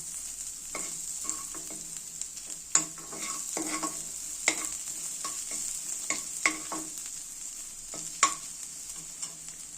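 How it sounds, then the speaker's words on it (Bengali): Chopped ginger stirred and frying in a pan for Lung Fung soup, a steady sizzle with repeated sharp spatula scrapes and clicks at irregular intervals, close and moderately loud with no talking. "আর দেব আদা কুচি, একটু নেড়ে নেব।"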